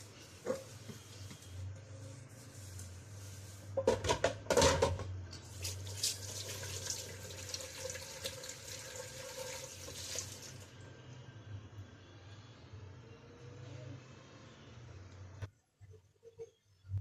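Plates and bowls being washed under a running tap in a home kitchen: steady splashing water with a louder burst of clattering and splashing partway through, then the flow continues before it stops near the end.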